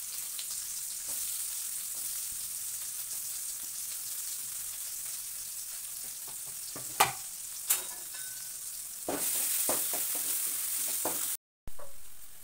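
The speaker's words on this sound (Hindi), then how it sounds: "कटा हुआ प्याज डाल रहा हूँ।" Chopped onion frying in hot oil, a steady close sizzle throughout with a few sharp stirring scrapes and a brief louder surge toward the end.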